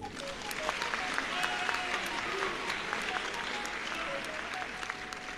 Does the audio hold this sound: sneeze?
no